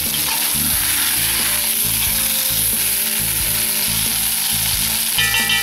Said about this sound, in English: I'm going to give these guys one last stir.